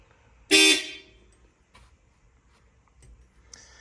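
The factory horn of a second-generation Toyota 4Runner is tested once, a short, loud, clear honk lasting about a quarter second, followed by faint clicks and quiet handling sounds.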